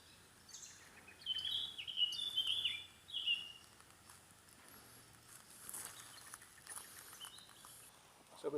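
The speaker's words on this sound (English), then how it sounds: "Listen to the birds." Birds sing in Nutclough Woods near Hebden Bridge: a quick series of high, bright chirps in the first few seconds, then sparser faint calls over a quiet woodland background.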